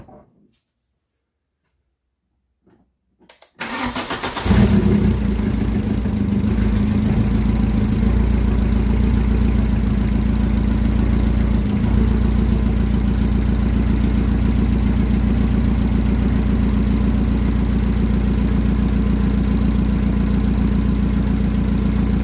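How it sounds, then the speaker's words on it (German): A newer Mercedes engine with about 60,000 on the clock starts after a few seconds of near silence, then settles into a loud, steady idle with a faint ticking running through it. "das ist ein völlig normaler Klang für diesen Motor"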